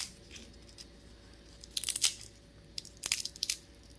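A cooked chestnut is bitten and chewed close up, giving two short bursts of sharp crunching over a quiet room hum.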